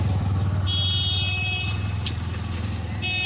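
Vehicles stuck in a traffic jam: a loud, steady engine rumble fills the scene while several horns honk in short and drawn-out blasts, close by and overlapping.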